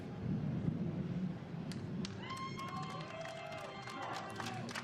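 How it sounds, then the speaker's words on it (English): A crowd at a GT2 Europe race podium at Hockenheim cheers the winners. The roar is distant and fairly faint, a broad wash of voices with scattered whistles and shouts. "Big cheer from down below as the victors are applauded"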